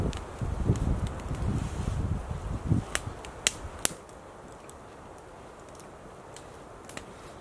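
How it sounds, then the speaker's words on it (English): A campfire burns on a frozen lake beside a bushcraft camp, giving sharp scattered crackles and pops, with a rustling wind-like roar early on that fades to quieter snaps. "Now we got a very good fire."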